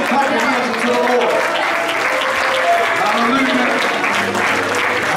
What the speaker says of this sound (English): Lift your voice and clap your hands unto the Lord.